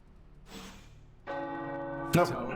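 Church bells ring out in Marvel's Midnight Suns, a sustained, resonant bell tone with overlapping strikes that swells midway and holds to the end.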